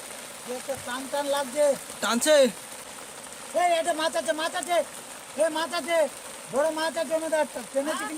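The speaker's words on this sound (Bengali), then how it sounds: "বৃষ্টি তো পড়ছে" A steady hiss of falling rain fills the background on the Hatamara river in the Sundarbans while people talk intermittently over it.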